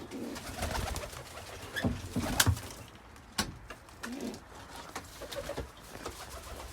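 A young pigeon calls from a loft with soft repeated coos and chirps, close by, mixed with wing flutters and scattered rustling thumps.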